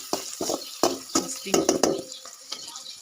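Onion being stirred with turmeric and salt in a pot, with close, irregular scraping strokes of a utensil, a dozen or so quick scrapes over a soft sizzle.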